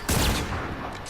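A single sharp sniper rifle shot in Fortnite Save the World cracks loudly near the start, then trails off into a fading rumble and echo.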